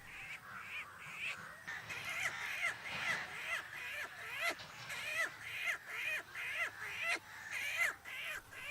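A bird hunter imitates a hawk's call, giving a steady series of sharp, repeated cries about every half second, fairly faint and distant against soft background noise.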